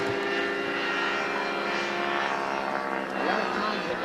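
A large 340-pound radio-controlled Hyper GT model airplane flies at an air show, its engine giving a steady, fairly faint buzzing drone that swells slightly toward the end.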